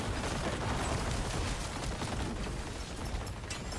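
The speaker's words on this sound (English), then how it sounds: "having to actually corpse explosion again" Corpse explosion skill bursts in Diablo 4 combat, a dense wall of loud overlapping blasts and crackling pops sustained throughout.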